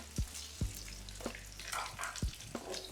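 Food frying in a pan at a Korean street food spread, with a soft, steady sizzle punctuated by a few sharp clanks of utensils against the pan.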